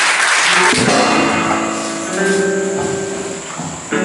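A church congregation applauds and cheers to welcome an evangelist, producing a steady wash of crowd noise with sustained tones running through it, fairly loud and continuous throughout.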